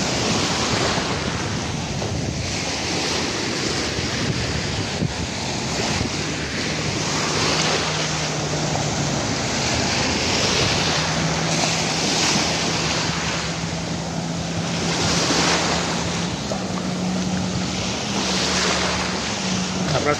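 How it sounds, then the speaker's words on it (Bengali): Sea waves roll and wash onto Pattaya beach in Thailand, a steady broadband surf roar with gentle swells, mixed with wind buffeting the microphone and a faint low engine drone of a passing boat. "বাট ঢেউটা খুব ভালো লাগছে"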